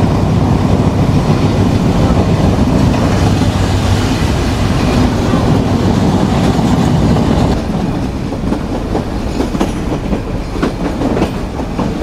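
Sundarban Express running from Dhaka to Khulna on a single track near Noapara station, heard from on board: a loud, constant rumble with rhythmic clickety-clack of the wheels throughout.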